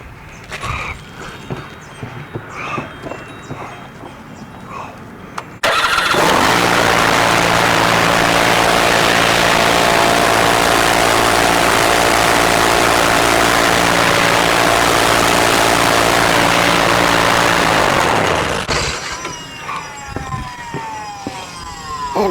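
A John Deere GX345 lawn tractor engine is started after a valve cover gasket replacement. It bursts into a loud, steady running drone for about twelve seconds, then winds down and stops.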